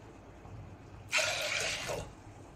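Water pours briefly into a pot of washed lentils for about a second, a splashing gush that rises out of a quiet background and then stops.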